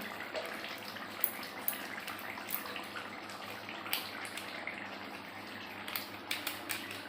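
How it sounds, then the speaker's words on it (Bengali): Hands being washed under running tap water in a home kitchen, a faint steady stream with small intermittent splashes and clicks, no talking. "হাতটা ধুয়ে আনি"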